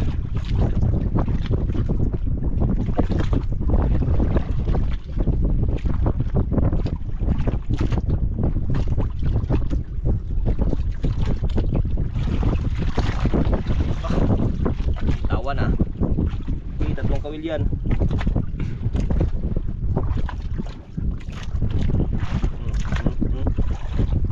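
A small fishing boat circles on open water, its engine drone mixed with heavy wind buffeting the microphone and splashing water, loud and continuous, with faint voices underneath.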